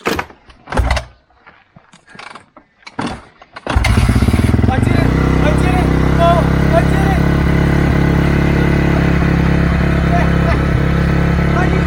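Honda CRF dirt bike, 125 or 250 R, kicked over several times with sharp uneven bursts, then catching and settling into a loud, steady close-up idle with light throttle blips.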